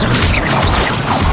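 Levioso levitation spell cast in the Hogwarts Legacy video game, a loud, continuous magical swoosh with shimmering sweeps and dull thumps throughout, no voices present.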